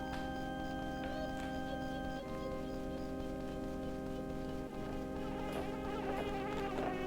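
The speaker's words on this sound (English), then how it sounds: "Some bees." Insects buzz steadily in Bubblegloop Swamp, a video game level, a continuous droning hum with layered tones running for the whole stretch at an even, moderate level.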